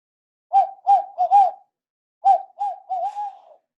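A voice imitates an owl's 'who cooks for you' hooting call, giving two clear phrases of rhythmic, rounded hoots, four then four, separated by a short pause, close and alone.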